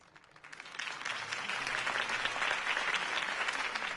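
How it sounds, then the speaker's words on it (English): A crowd in a Batman-themed video game breaks into applause that swells quickly from quiet to a dense, sustained clapping roar. "If only Mr. Wayne, my campaign's largest backer, could have heard that applause"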